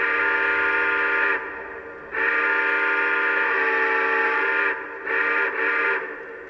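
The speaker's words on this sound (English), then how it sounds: "We'll go ahead and give the whistle a try here." Whistle of a Lionel SP A-6 Atlantic model steam locomotive, a loud, steady chord sounded in several long and short blasts with brief gaps, close and alone.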